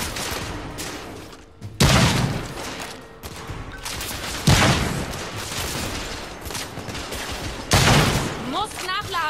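Shots ring out in The Order 1886 during a fight at the United India House, coming as a few sharp, loud bursts with a scattering of lighter pops between them over busy game noise, with voices mixed in.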